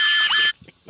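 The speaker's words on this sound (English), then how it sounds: "Fucking smoke detector in the bathroom." A smoke detector in a bathroom sounds a loud, shrill electronic tone in the video game Unheard. It is held for half a second, then cuts off, followed by faint scattered noises.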